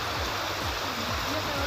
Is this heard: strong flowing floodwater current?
yes